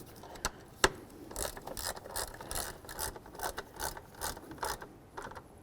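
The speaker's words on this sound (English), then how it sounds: "I'm going to use my ratchet with a 1/4 inch drive socket." A 1/4 inch drive ratchet and socket tightens mounting screws on a Mass Air Flow sensor of a 2005-14 Ford Mustang, giving repeated short clicking bursts in a steady back-and-forth rhythm, close and moderately loud, with one sharp knock near the start.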